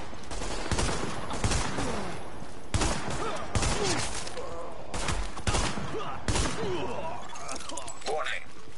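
Rapid gunfire in Tom Clancy's The Division, with repeated bursts of sharp shots throughout an ongoing firefight and voices and radio-style callouts mixed in.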